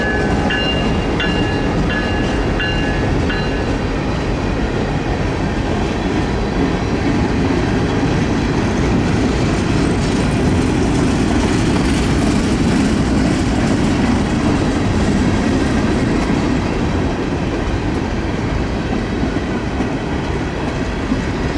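A local freight train led by a CSX EMD locomotive rumbles steadily past at close range, with a continuous roar and rhythmic clatter of wheels over rail joints throughout, no voices.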